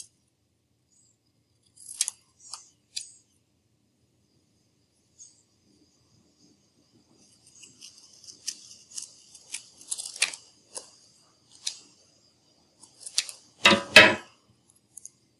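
Scissors snip paper while Baby Yoda ears are cut out, giving sparse, quiet, close clicks. A few separate cuts come early, then a denser cluster of snips follows, ending in one louder handling knock, with no talking.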